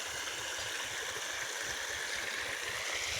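Water gushes steadily from a machine-driven well pump outlet on a farm, a continuous close rushing splash with no voices.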